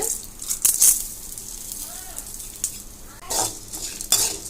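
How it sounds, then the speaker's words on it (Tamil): Chana dal, urad dal and coriander seeds frying in hot oil, a low crackling sizzle under intermittent stirring scrapes and spoon clinks against the pan, with a couple of louder bursts. "நம்ம எடுத்து வச்சிருக்கிற கடலைப்பருப்பு, உளுத்தம் பருப்பு, தனியாவை வறுத்துக்கலாம்"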